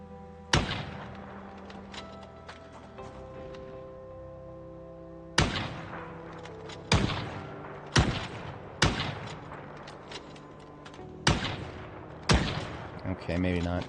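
Seven sharp gunshots ring out from a firearm in Project Zomboid, spaced irregularly a second or two apart, each loud and close with a short decaying tail, and no talking between them.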